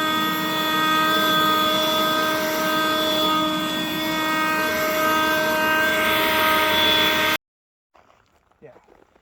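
A battery leaf blower clearing snow off a track, running at a loud steady whine with a strong tonal hum, then cutting out abruptly to near silence with faint sounds after.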